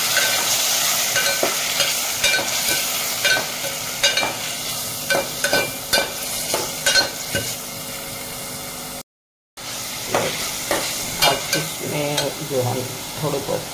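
Marinated chicken sizzles and fries in a pan for a shashlik dish, a loud, steady hiss with stirring and scraping scattered through it and one short break near the end.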